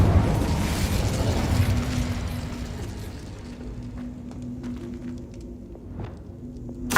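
An Incendio fire spell cast in Hogwarts Legacy bursts in a loud whooshing roar of flame that slowly fades into a crackling, humming tail with scattered small pops.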